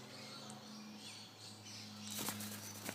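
A king parrot flaps its wings as it lands on a hand: a brief, soft flurry of wingbeats at the end, preceded by quiet ambience with faint chirps.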